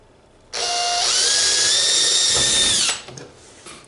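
A power drill spins up loudly, whines steadily for a couple of seconds while boring, then winds down, close by and with no talking.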